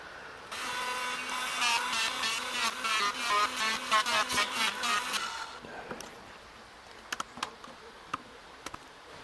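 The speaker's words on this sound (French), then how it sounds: "Je mets quelques coups de raboteuse électrique." Electric planer passing over a wooden post for a rustic wood-stove surround, a loud whining buzz for about five seconds, then quiet with a few sharp knocks and taps.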